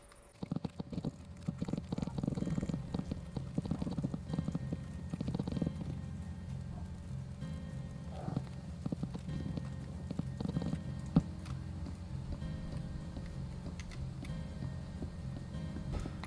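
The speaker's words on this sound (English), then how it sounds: "Time to put some horses into the pens." Horse hooves clopping in a horse-pen scene of a blocky survival video game, a steady rapid patter of hoofbeats running throughout at moderate loudness.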